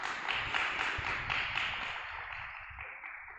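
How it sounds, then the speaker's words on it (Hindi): Audience applause at a religious class, a continuous even wash of clapping that holds steady and slowly fades near the end. "इसके लिए जोरदार तालियां बजाओ"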